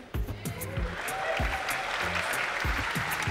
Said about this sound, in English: Now give another magical round of applause